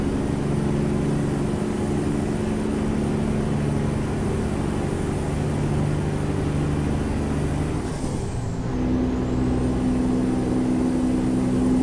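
A Western Star truck engine in American Truck Simulator drones steadily and loudly from inside the cab, its pitch dipping once during a gear shift before settling into a slightly higher hum.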